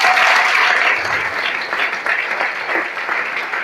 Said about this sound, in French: Si tu nous entends, acclame fortement le Seigneur.